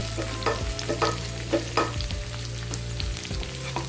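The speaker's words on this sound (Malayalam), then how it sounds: "ചേർത്തിട്ടൊന്ന് വഴറ്റാം. നന്നായിട്ടൊന്ന് വഴന്ന് വരണം ഉള്ളി." Sliced onion, slit green chilies and curry leaves sauté in a pan, with repeated scraping stir strokes about every half second over a soft sizzle and a low steady hum, close and without speech.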